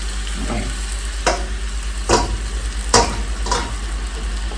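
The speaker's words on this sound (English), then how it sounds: "I'm going to use my fork. I'm not trying to mash it out. I'm going to mix it in" A fork stirs drained, steaming ackee in a pan over a steady loud sizzle, with four or five distinct scraping strokes rising above the continuous frying hiss.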